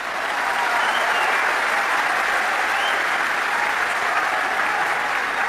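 A large audience at an Islamic talk welcoming new converts applauds in a loud, dense, unbroken wash of clapping that holds steady for several seconds.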